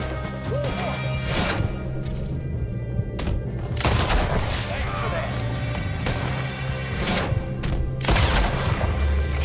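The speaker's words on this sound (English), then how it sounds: "I just love using rifles." Rifle gunfire in Red Dead Redemption 2, a string of sharp loud cracks at irregular intervals over steady game ambience, with a voice talking between shots.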